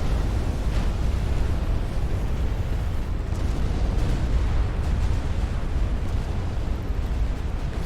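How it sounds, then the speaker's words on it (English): Warships blowing up in a naval battle in Ultimate Admiral Dreadnoughts, a dense continuous rumble of explosions and shellfire rolling without pause and fairly loud. "Lots of ships exploding and sinking and flooding and burning."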